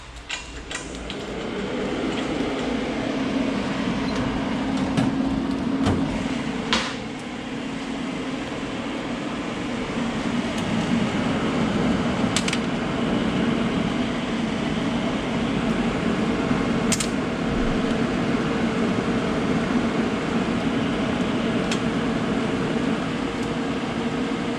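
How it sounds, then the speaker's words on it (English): A gas torch roars steadily as it preheats thick metal before welding, a continuous close broadband hiss with a few faint clicks and clanks on top. "next up, torch. Got to preheat it"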